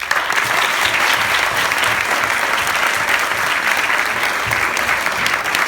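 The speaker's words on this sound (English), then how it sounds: "Give them a big round of applause" Sustained, loud applause from an audience at a tenth-grade Balavihar stage performance, dense steady clapping with no break for about six seconds.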